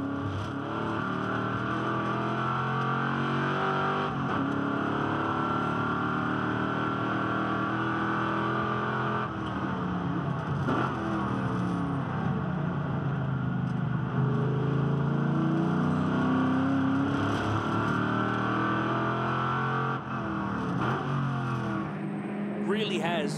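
On-board engine note from a V8 Ute race car lapping Hidden Valley in Darwin, a loud, continuous roar that swells and drops with gear changes and throttle, with a commentator talking over it throughout.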